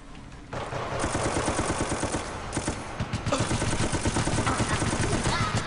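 Rapid automatic gunfire from Resident Evil: Operation Raccoon City rattles in dense, sustained bursts, loud and close. A brief lull falls near the start and another around the middle.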